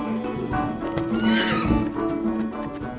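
Horses whinny loudly and close on a crisp autumn day as riders approach, with a long neigh and hoof clip-clop beneath, steady and full throughout.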